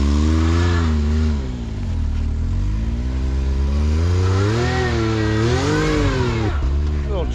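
An off-road side-by-side engine revs hard and holds a loud, wavering roar as it spins out in snow, close by, with a voice calling out over it.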